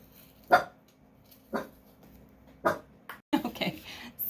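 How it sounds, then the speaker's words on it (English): A dog barks several times from another room, single sharp barks spaced about a second apart, then a quicker cluster of yips near the end, with faint background noise in a crafting space. "the dog barking"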